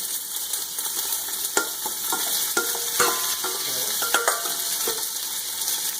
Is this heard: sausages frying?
yes